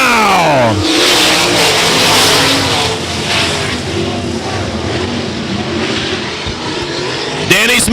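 Sprint cars roar off the green flag to start a heat race at Ionia Raceway Park, a dense, loud pack of engines revving hard and sustained from start to finish.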